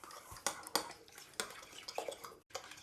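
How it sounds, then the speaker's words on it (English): A utensil stirs food in a pan after garlic goes in, making faint scraping clinks and taps in an uneven rhythm close by, with no talk. "Give it a stir."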